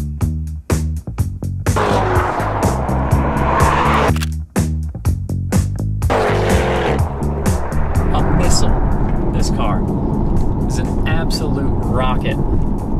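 A powerful Chevy Corvette engine revs hard and climbs through the gears with a loud, roaring exhaust, shifting quickly as it accelerates in a drag race, close and continuous.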